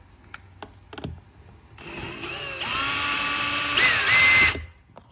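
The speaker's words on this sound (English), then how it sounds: "Inside there's a Torx screw. We'll just remove that." A power tool unscrews a Torx screw inside the door trim of a Holden VF Calais, a rising whine that holds steady for a few seconds and then cuts off, preceded by a few light clicks.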